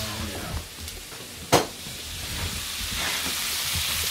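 Steak bites sear in a hot pan on a stovetop burner, a steady broadband sizzle throughout with a sharp clank of a utensil midway and faint stirring scrapes.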